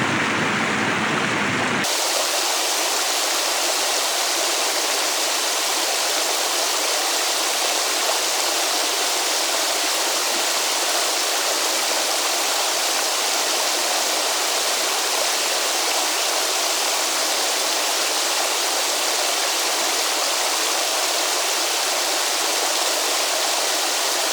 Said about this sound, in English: Now it's dripping.